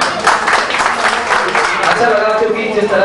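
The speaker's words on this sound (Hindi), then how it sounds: "और बजाय ना बजाय आपके लिए मैं तालियां बजा दूं स्पेशली।" Hand clapping at a Bollywood music academy gathering in Jalandhar, a dense, close burst of claps running steadily throughout while someone talks over it.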